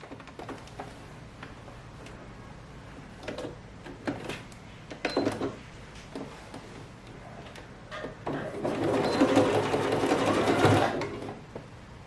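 A sewing machine stitches elastic onto a dress seam allowance while the elastic is stretched. Short whirring bursts and scattered clicks lead into a longer, louder continuous run near the end.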